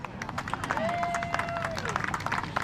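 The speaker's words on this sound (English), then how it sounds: "we'll give this pair a round of applause" A crowd claps for a pair of cattle exhibitors at a breeding beef show: dense, steady applause with a brief tonal whine rising over it.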